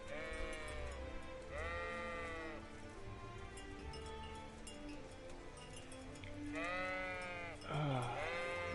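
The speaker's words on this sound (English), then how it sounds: "I know that's what sheep actually sound like, but there's something funny about it." Sheep bleat in the Kingdom Come: Deliverance video game, several drawn-out wavering calls repeating across the scene over a soft ambient background, with no talk.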